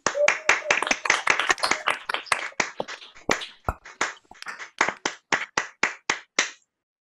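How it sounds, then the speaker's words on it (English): Performers and families at a winter online concert applaud live over a video call, clapping unevenly at first and then settling into separate, distinct claps that thin out toward the end. "give an actual round of applause live for everybody and all of our performers"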